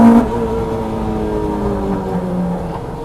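A Renault Clio Mk3 RenaultSport R27 F1 with individual throttle bodies, tuned to about 250 bhp, idles and revs loudly and close up, its harsh induction note rising and holding in a steady droning tone, with no talk over it.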